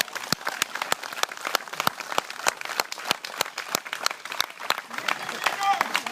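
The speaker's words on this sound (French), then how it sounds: "on peut aussi l'applaudir. Bravo." An audience at an evening event bursts into steady applause, many hands clapping in a dense, crisp patter that carries on throughout, with some voices mixed in among the crowd.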